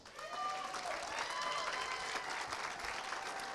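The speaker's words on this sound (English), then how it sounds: "They're not going to stop clapping until you get here" Steady applause from an audience at a Manchester awards ceremony, continuous dense clapping filling the room at moderate distance.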